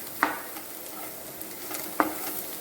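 Curry leaves being stirred into a cauliflower roast masala in a pan, a low soft sizzle under two sharp spatula knocks against the pan, close and quiet with no talking.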